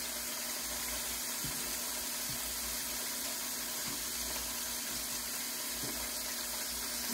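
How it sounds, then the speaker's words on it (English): Tap water running steadily into a kitchen sink during hand washing while cooking, a continuous close hiss with a faint low hum and occasional small splashes or knocks. "Wash my hands."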